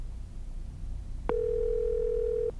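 In the horror game Haishin, set in an abandoned building, a telephone dial tone cuts in after a quiet stretch of low hum and holds as one steady, clear tone for just over a second before stopping abruptly.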